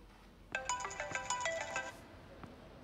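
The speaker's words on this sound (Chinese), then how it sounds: "不行，我要打电话给他。" A phone rings on an outgoing call: a bright electronic ringing melody sounds close and clear for about a second and a half, then fades to quiet, with no talking.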